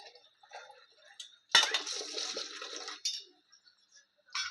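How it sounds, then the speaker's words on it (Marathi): Water is poured into thick sambar in a pressure cooker for idli sambar, a rushing, splashing pour of about a second and a half with faint clinks before and after. "मी त्याच्यामध्ये कुकरमध्ये घातलं आणि अजून त्याच्यामध्ये मी पाणी घालणार आहे."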